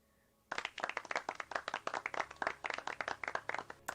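Sudden burst of rapid, crisp hand claps starts after a moment of quiet and continues evenly, like a short applause sound effect.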